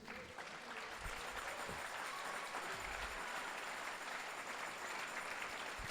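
A church congregation gives a steady round of applause to Jesus during a sermon, a sustained, even wash of many hands clapping at a moderate distance.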